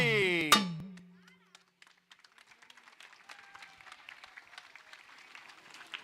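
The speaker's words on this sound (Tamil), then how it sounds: "கைத்தட்டல் கொஞ்சம் லேட்டாக வருதுங்க" Scattered audience clapping at a temple consecration festival in Salem, building slowly after a loud musical chord fades, with sparse claps growing into a steadier patter.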